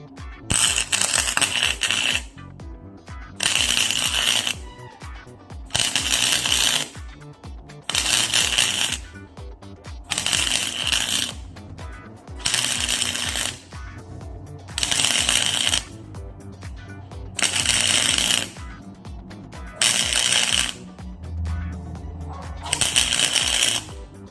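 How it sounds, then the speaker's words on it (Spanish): Spot welding on automotive metal makes a string of crackling, buzzing bursts, each about a second long with short gaps between. The pulses come loud and close in a steady rhythm, with a quiet voice in the pauses. "Ahora vamos a hacer puntos, que es lo usual que utilizamos nosotros en lo que es la soldadura en"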